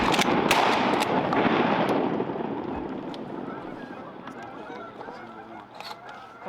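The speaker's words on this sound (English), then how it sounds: "Cause like, you guys could probably hear all the geese." Geese honking during a goose hunt, a dense chorus of calls loudest at the start and thinning as it fades, with sharp shots cracking through it.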